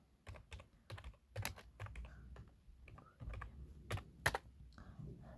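Rapid typing on a computer keyboard, a steady run of close, crisp key clicks with uneven rhythm and a few louder strokes, over a low background hum.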